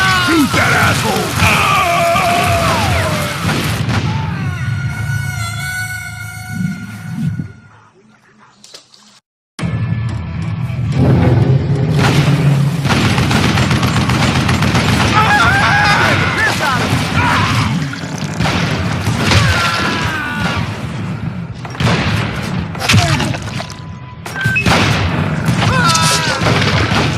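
Call of Juarez: Gunslinger combat: loud gunshots and heavy booming explosions through most of the stretch, with a short near-silent gap before the fighting resumes with dense, repeated blasts and mechanical clanks.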